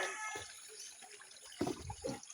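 Cassava being rinsed by hand in a stream: steady close running water with a couple of louder splashes and sloshes toward the end.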